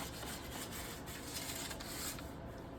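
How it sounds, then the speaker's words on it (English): Steady hand sanding of wood on an old armoire being restored, a continuous close scratchy rubbing with even strokes and no talk. "You're telling me you don't enjoy hand sanding?"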